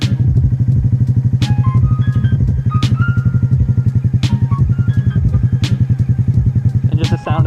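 A motorcycle engine runs steadily nearby with a throbbing idle, its pitch shifting slightly as the clutch puts load on the engine, with occasional clicks and clatter.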